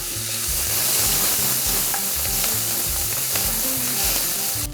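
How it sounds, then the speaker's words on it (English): Tomato paste sautéing in a pan with short rib aromatics, a dense continuous sizzle with occasional stirring scrapes, close and steady for the whole stretch without any talk. "I'm gonna continue to saute this for about another minute."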